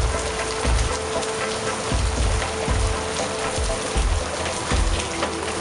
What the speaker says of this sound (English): Look at the hail right there.